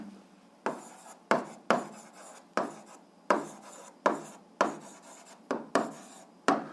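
Repeated scratchy strokes of a pen or pencil writing on paper, a series of about ten short rasping bursts with brief pauses, close and fairly quiet, with no speech.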